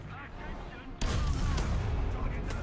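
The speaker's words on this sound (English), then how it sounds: "Artillery strike incoming." An artillery strike in a first-person shooter game lands as a sudden loud blast, then a rumbling, crackling tail of explosions.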